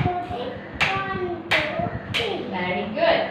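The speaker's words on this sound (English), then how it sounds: "Clap" Children in a classroom clap their hands in three sharp, distinct bursts, spaced about a second apart and close by, with a teacher's voice and other voices talking over and between the claps.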